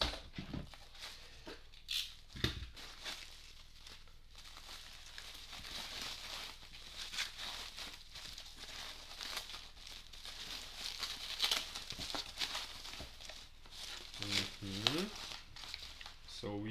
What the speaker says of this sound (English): it's well packed. We have bubble foil